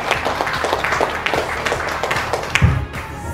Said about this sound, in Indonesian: beri tepuk tangan yang meriah buat Mbak Dewi Permatasari